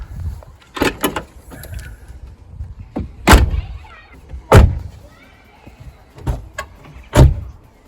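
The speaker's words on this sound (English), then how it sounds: "So make sure all your doors open and close as they should." Car doors are opened and shut several times, with sharp thuds and slams spaced irregularly, plus softer clicks of latches and handles in between.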